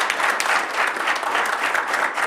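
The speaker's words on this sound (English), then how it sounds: "Let's give them a round of applause" Attendees at a school board business meeting clap together, a dense round of applause with slight pulsing swells, sustained and moderately loud.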